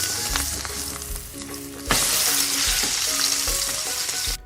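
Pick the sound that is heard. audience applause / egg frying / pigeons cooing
egg frying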